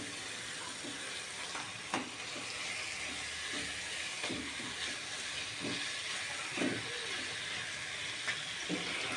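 Mutton frying in a spiced masala for biryani gives a steady, close hiss with scattered crackles and a few louder spatters, with no talk over it.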